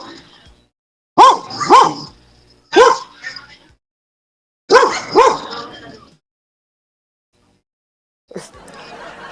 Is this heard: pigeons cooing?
no